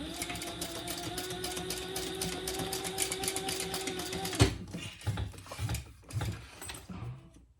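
A sewing machine runs a steady, even stitch along a 1/4-inch seam in folded vinyl for a pouch, then stops abruptly partway through, leaving scattered handling knocks and rustles.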